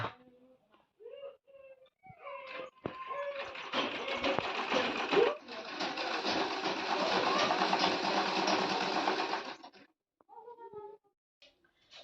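A woman runs a machine in a home bedroom, a loud steady mechanical whir lasting several seconds after a short start, with brief speech before and after.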